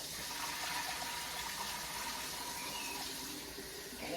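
Tap water running hard into a pot of washed green beans, a steady bright gushing splash that holds at an even level.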